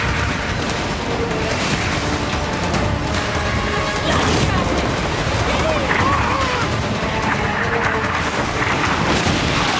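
Naval battle cannon fire in the Skull and Bones pirate ship game: dense, continuous booms and crashing impacts with a roaring wash of noise, loud throughout, while a voice talks over the barrage.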